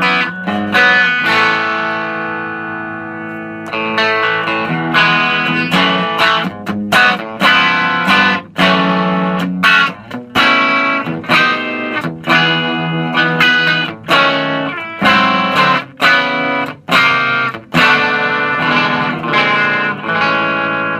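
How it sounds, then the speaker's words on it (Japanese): An electric guitar plays a lively run of chords and single notes through a T-Rex Diva Drive overdrive pedal with gain at the midpoint, giving a light crunch that stays clean-edged, continuous and close, with no talking over it. "これ、ドライブって書いてあるんですけれども、基本的なオーバードライブだと思っていただければ問題ないかと思います。"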